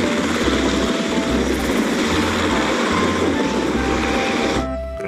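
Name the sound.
toy combat helicopter sound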